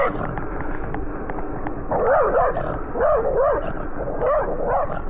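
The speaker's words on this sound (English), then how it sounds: "There's a Rottweiler right there." A Rottweiler barking several times in short clustered woofs at moderate distance, heard over steady road and wind noise from a moving ride.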